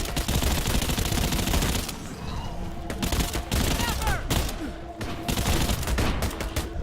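Mounted guns and a sniper rifle firing in the Earthfall video game: dense automatic bursts and single heavy shots crowd the whole stretch, loud and near, with brief lulls between volleys.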